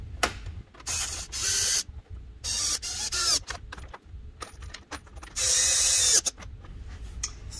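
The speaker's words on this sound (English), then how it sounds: "take our 10mm wrench" Wrench ratcheting a bolt on a 2017+ Maverick X3 fender, coming in bursts of rapid metallic clicking separated by short pauses, up close with no talking.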